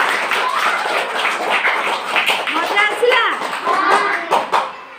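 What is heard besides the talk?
children clapping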